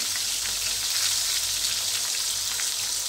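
Fish heads frying crisp in hot oil for a Bengali fish-head kalia, a steady loud crackling sizzle with dense popping that holds evenly throughout, no voices.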